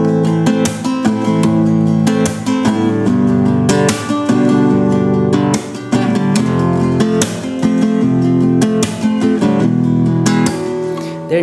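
Spanish rumba guitar strummed with a swaying groove and accented beats, chord hits pushing through a steady close rhythm with brief gaps, played alone without talk.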